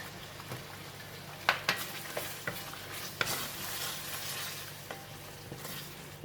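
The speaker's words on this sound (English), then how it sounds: "I'm putting in the onions that we keep, the half of the red onion." Sliced red onion fries in a pan of sambal, giving a steady sizzle broken by several sharp clicks and scrapes from stirring. The sound is close and clear, with no voices.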